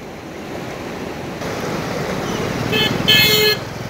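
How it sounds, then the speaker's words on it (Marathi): The flooded Bhima river after unseasonal rain rushes in a loud, steady roar close by, with traffic and a brief car horn sounding over it near the end. "भीमा नदी दुथडी भरून वाहताना आपण दृश्य पाहतोय"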